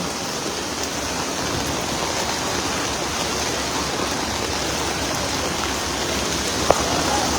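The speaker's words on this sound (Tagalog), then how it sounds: "kung gaano kalakas yung alon na nandito ngayon. Yung current kasi delikado." Strong floodwater current surging across a flooded main road at a river crossing in Marilao, Bulacan, a loud, steady, broadband rushing roar close by with no voices over it.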